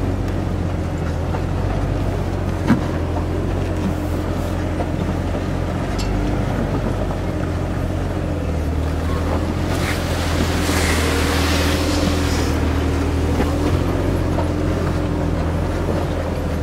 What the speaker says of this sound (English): you're just sort of cruising along at idle